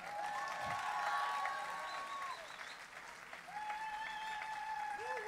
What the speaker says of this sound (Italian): Facciamo fino a mezzanotte e mezza di applausi e poi ce ne andiamo.